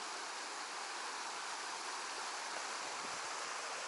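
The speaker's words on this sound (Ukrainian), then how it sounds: "водичка тече дуже гарно" A stream flows in a steady, even rush of water, constant and moderately close with no break, a soft broadband babble and no voices.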